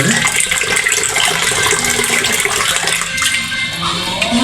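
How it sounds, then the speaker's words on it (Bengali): Pumpkin leaves being washed under running water, a loud, continuous splashing and gushing flow close by, with faint voices in the background. "বাবা শাক ধুয়ে ছড়া দিয়ে রাখছে"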